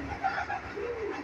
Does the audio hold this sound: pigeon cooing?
yes